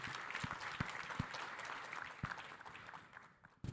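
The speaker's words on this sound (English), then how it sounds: "Let's give him a round of applause." Audience at a strategic forum panel gives scattered, fairly quiet applause with a few distinct sharp claps standing out, tapering off toward the end.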